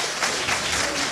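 Audience applause at a mayoral candidates' debate in Bussolengo: dense, steady clapping from many hands, fairly loud and continuous for a short stretch with no voices.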